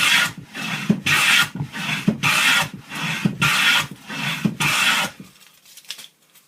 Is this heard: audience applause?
no